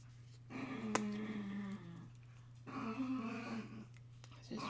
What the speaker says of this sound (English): I also have 4 dogs, and so once in a while, they'll make a ruckus